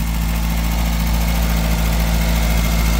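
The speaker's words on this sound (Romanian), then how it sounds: "Avem un motor pe carburație." A restored car with a carbureted engine idles steadily, giving a continuous low rumble with a constant hum and vibration and no speech over it.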